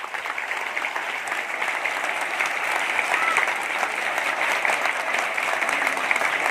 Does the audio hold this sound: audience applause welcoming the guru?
yes